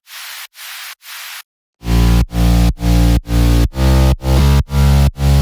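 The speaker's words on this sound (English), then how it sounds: "we're gonna add this white noise layer on top of the bass to add more energy to the drop." For a progressive house drop made in FL Studio, three short bursts of white noise hiss on their own. Then eight heavy rhythmic pulses follow, with a deep bass layered under the bright noise.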